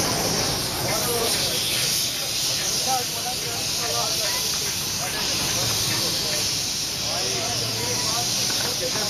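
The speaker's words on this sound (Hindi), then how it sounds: "कुकर खुलने लगा अभी खुलने लगा" Pressure cooker releasing steam as its lid comes open while mutton karahi is cooked, a loud continuous hiss running throughout with voices talking underneath.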